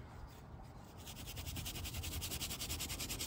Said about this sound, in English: Just going to apply this on fairly thick, so at least I can see where it's at, and scrub it in.